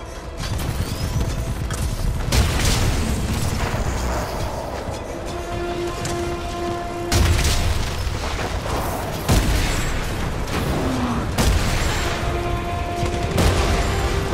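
Gunfire and booming explosions from the Titanfall 2 campaign, a loud dense barrage of shots and blasts running throughout with mechanical clatter, sustained with no talk.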